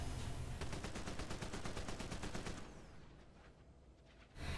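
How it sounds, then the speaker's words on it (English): A minigun fires in the DC Universe Online video game as a rapid, continuous burst of shots that runs loud for a couple of seconds, then tails off into a fading echo. "While Minigun is going off, it can either stun your target or push them back."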